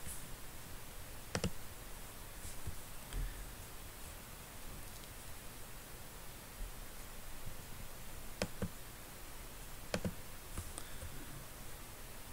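Computer mouse clicks while selecting parts in FreeCAD: a few sharp, sparse clicks spaced seconds apart, faint and close, over a steady soft hiss.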